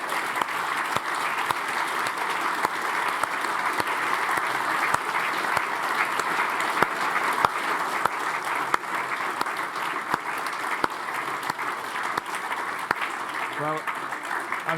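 An audience bursts into sustained, dense applause after a speech on Brexit, a steady wash of many hands clapping that continues evenly for about fifteen seconds with scattered sharper claps.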